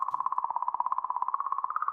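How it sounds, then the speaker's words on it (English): Comet 67P, recorded in space and rendered as sound, gives a steady warbling tone pulsing rapidly and evenly throughout, slightly rising near the end, clean and alone. "This is what a comet sounds like."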